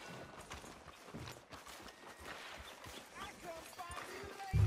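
Horse hooves clop at a steady trot in the Red Dead Redemption video game, moderately quiet and rhythmic, with voices talking over them.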